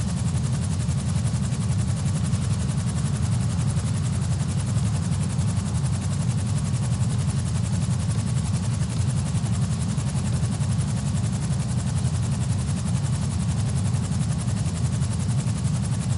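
A GTA helicopter flies with a constant loud rotor and engine roar, heavy low rumble under a broad whooshing wash, unbroken and close throughout.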